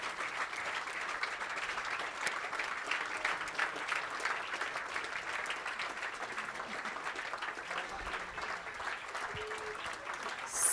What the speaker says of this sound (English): get in front of the audience and get an applause.